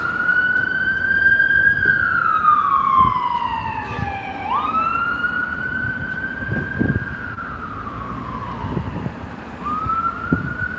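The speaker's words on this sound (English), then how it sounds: "Mercedes Sprinter ambulance." A Mercedes Sprinter ambulance siren in Gloucester wails loudly, sweeping up and down in long slow cycles over a low rumble of traffic.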